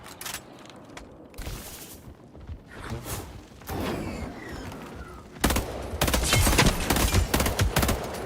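Video game gunfire, with scattered shots early on, then dense rapid bursts and thumps toward the end, loud and close with no talk.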